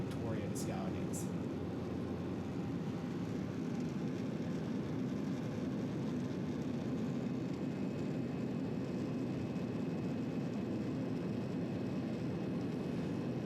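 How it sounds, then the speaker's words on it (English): Inside a Harbour Air seaplane on its approach to a harbor landing, a steady, loud engine and propeller drone holds throughout with no change in level, and a voice faintly comes through beneath it. "As we start our approach for landing in the harbor, started to reflect on this flight"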